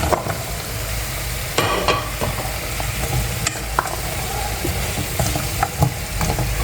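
Leafy green stems tossed into hot oil in a pan, frying with a steady close sizzle broken by scraping stirs of a spatula, no voices.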